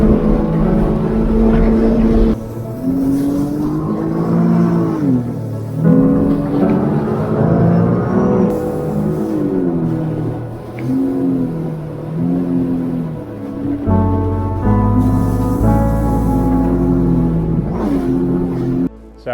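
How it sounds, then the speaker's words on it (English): A Sea-Doo RXT personal watercraft runs at full throttle in sport mode, a loud close engine roar rising and falling in pitch as it revs and surges over water, wind and spray mixed in, no talk. "put it in sport mode, and absolutely rip it"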